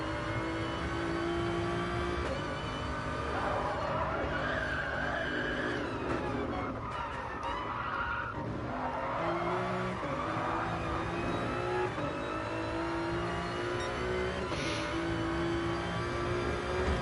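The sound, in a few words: Toyota Supra race cars at Dragon Trail, video game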